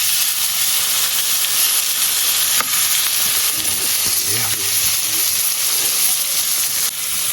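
Peas sizzle and hiss steadily in a hot pot while being stirred for a homemade Jamaican ackee and cheese patty, with a constant frying crackle and a few soft scraping stirs, no talking.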